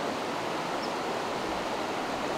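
Yuba River water flowing steadily, a dense, even rush close by with no voices.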